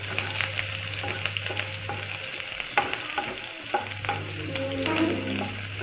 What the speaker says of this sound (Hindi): हरी मिर्च को अच्छे से हम लोग इसमें डाल लेंगे और इसमें फ्राई कर लेंगे।